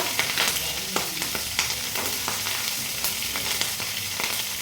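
Steady sizzling of a fish head frying in a pan as green chillies are added, with occasional clicks and scrapes as it's stirred, close and continuous, no voices.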